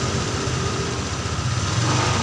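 Honda Vario 125 injection scooter with a speedometer cable fault, its engine running close up with a steady mid-pitched drone that rises slightly as the throttle opens near the end.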